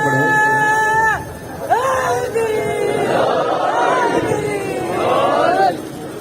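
A crowd at a Shia majlis religious gathering in Tando Allahyaar, Sindh, chants slogans in loud call-and-response waves of massed voices, sustained and reverberant throughout.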